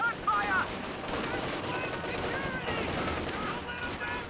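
Gunfire rattles from the Company of Heroes 2 battle game, dense bursts of rifle and machine-gun shots with battle noise mixed under a commentator's voice.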